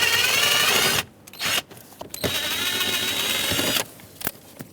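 Small 7mm screws are backed out of a Chevrolet Equinox pedal cover with a power driver, two bursts of close, whirring motor noise separated by brief clicks and pauses.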